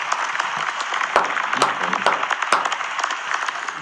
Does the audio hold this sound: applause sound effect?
yes